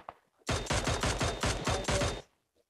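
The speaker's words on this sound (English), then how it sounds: "What's he shooting at like this?" Rapid bursts of automatic gunfire from the mobile battle royale game PUBG Mobile, a dense sustained volley of about nine sharp repeating shots, loud and close, with no talk over it.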